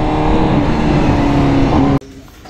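Honda CBR1000RR-R superbike engine revs hard and loud up close, a steady high-pitched roar that cuts off abruptly near the end, leaving a quieter idle.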